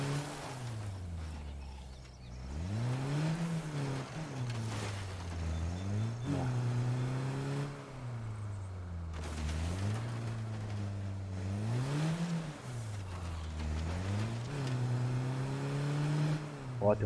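A small car driven in the video game State of Decay 2 hums with a loud, close engine drone that repeatedly revs up and eases off in rising and falling swells.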